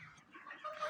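Broiler chickens cluck softly inside a poultry house, a low, steady flock murmur with a few slightly louder calls rising near the end, no talk over it.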